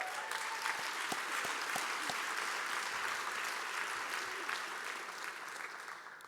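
Audience applause fills a room at a bar association pro bono and public service awards luncheon, steady and full for about six seconds with a few sharper claps standing out before it starts to thin.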